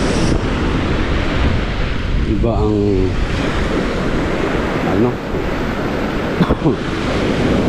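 Ocean waves at Es Canar beach in Spain wash in steadily as continuous surf mixed with wind buffeting. A person speaks briefly over the breaking water.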